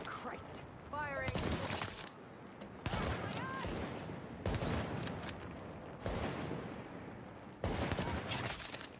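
Gunfire in the video game The Division: repeated bursts of rapid automatic fire, loud and close, broken by short pauses, with a player's voice speaking over parts of it.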